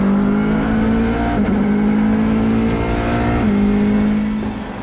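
A United Autosports LMP2 race car in an endurance race in Malaysia accelerates hard, its loud engine note holding high and shifting gear with brief dips before climbing again.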